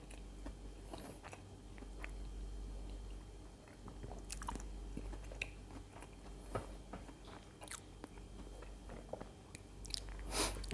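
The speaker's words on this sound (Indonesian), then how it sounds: "Sambil ngunyah ya" Someone chews food close to the microphone, with soft wet bites, squishes and occasional crunches scattered irregularly over several seconds and no talking heard.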